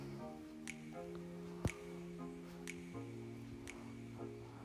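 A cloth is rinsed under running water, with soft close drips and squishy splashes scattered over a quiet background and a faint tonal hum behind them.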